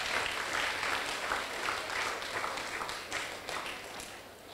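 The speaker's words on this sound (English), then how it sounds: "you could clap for that" An audience at a school anti-bullying programme relaunch claps in a dense, sustained round of applause that slowly tapers off.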